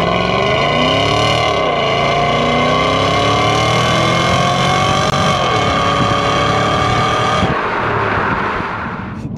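A Volvo S80 with its V8 engine pulls hard while driving, loud and close, the deep exhaust note rising and falling through revs and gear changes, then easing off near the end.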